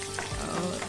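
Chopped ginger frying gently in a pan on a low flame, a soft continuous sizzle with faint stirring, brief and close with no talk over it.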